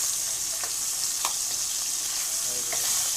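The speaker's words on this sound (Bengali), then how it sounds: "আমি প্রথমে মাছগুলো ভালোভাবে ভেজে নিচ্ছি।" Pieces of pangas fish fry in hot oil in a pan, a steady loud sizzling hiss throughout with a few faint clinks and stirring scrapes, no voices.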